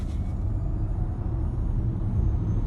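A BYD Tang EV600 electric SUV accelerates at full throttle, giving a steady, loud low rumble of road and cabin noise with no talk.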